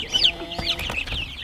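Chickens cluck close by at a farm nest box during evening chores, a few short, chattering calls with higher squawks mixed in over soft background noise.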